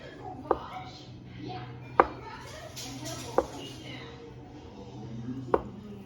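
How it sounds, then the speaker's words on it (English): Boiled eggs for potato salad are chopped with a knife on a board, four sharp separate knocks spaced about a second apart, close and clear, while a voice murmurs softly in between. "Just going to open my eggs like this, just chop them just like that."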